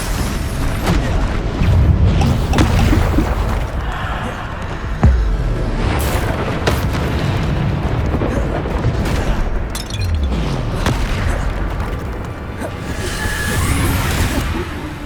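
Repeated Bombarda spell blasts in Hogwarts Legacy combat, heavy booming explosions with whooshing spell casts layered over continuous loud battle noise, thumping hits landing every few seconds with no talk.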